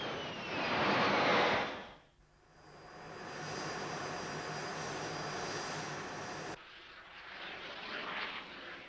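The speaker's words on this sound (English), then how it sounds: "The aircraft was being flown by Derek Whitehead." A Blackburn Buccaneer jet aircraft flies past with a loud rising roar that fades, followed by a steady distant engine rumble and hiss.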